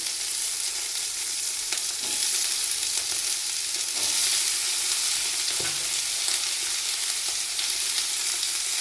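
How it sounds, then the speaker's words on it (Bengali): Onion stalks frying in hot oil in a home kitchen, a continuous sizzle with scattered small crackles and pops, close and fairly loud, no talking. "পেঁয়াজ কালিগুলো কিন্তু ফাটবে, ঠিক আছে?"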